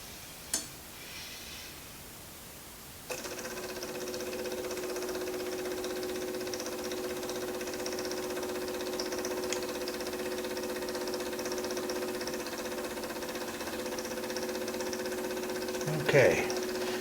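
A small engine fitted with a newly installed start kit and dual carburetors fires up cold with a sudden catch, then settles into a steady, loud idle that runs on evenly nearby, with a brief louder rev near the end.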